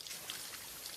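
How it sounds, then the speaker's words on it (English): Steady rushing of a natural waterfall, a continuous broadband wash of falling water with no pauses, heard alone at moderate level for about a second. "When this is the sound of a waterfall in nature"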